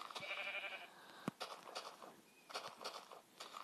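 Sheep in Minecraft bleat in a short series of calls at low volume, with soft game footsteps and a sharp click partway through, and no talking over them.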